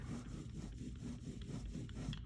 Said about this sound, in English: So I lay that on there while it's wet and then just go over it with my brayer.